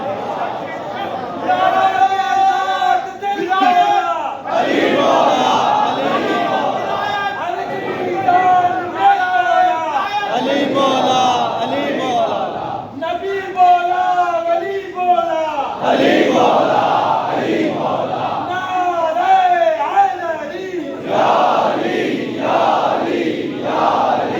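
A large crowd at a religious majlis gathering chants slogans in loud, rhythmic unison, repeated call-and-response bursts of many voices filling the hall continuously.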